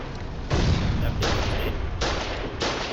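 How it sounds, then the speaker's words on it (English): Video game gunfire aimed at a facility gate, loud sustained bursts of shots in several volleys separated by short breaks, dense and booming, close up and with no speech over it. "Start shooting the gate."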